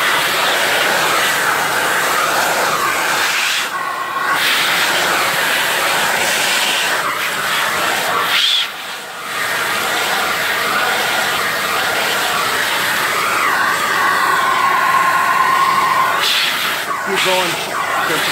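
A loud, steady broadband roar of a vacuum cleaner runs throughout, with a few brief dips and a faint whine rising near the end.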